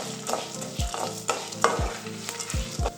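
Spices and tamarind being stirred and roasted in a pan, quiet dry scraping strokes and light sizzling, several distinct stirring scrapes spaced across a few seconds.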